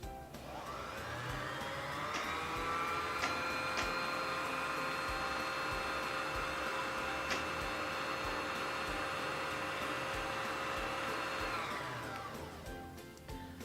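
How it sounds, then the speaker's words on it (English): Sewing machine winding thread onto a top-loading bobbin: a steady motor whir that spins up, holds an even high hum for about ten seconds with a few faint clicks, then winds down, close and alone. "wind it either until it is full or until you're satisfied with how much thread is on your bobbin"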